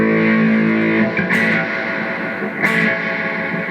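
An electric guitar plays through an Analog Alien Rumble Seat reverb pedal. A sustained chord fades into a loud reverb wash, broken twice by bright scraping swells.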